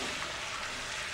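Pork cubes frying in butter and oil in a hot pan give a steady, close, hissing sizzle that stays even throughout the short moment, with no voices.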